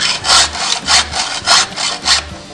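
Rhythmic rasping strokes of a file sharpening chainsaw teeth in a Granberg File-N-Joint jig, about five firm passes with brief pauses between, close and loud with no talk.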